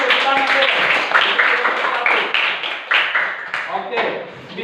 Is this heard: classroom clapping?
yes